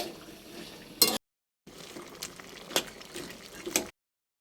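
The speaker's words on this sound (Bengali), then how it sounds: "আলু কুমড়ো সিদ্ধ হয়ে গেছে ভালো করে নাড়িয়ে নিই" A spoon stirs boiled potato and pumpkin curry in a pan, faint soft scraping and gentle bubbling in short bursts, broken by a brief silence partway through.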